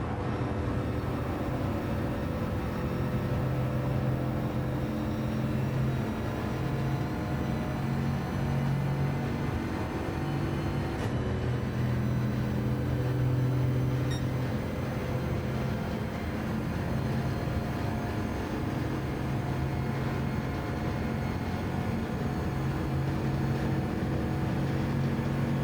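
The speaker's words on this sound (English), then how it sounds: "Just listen how quiet this engine is compared to the other machines on track." A race car engine heard from on board during a race, a steady, fairly quiet low drone with constant tonal harmonics and a brief shift midway, and no talking.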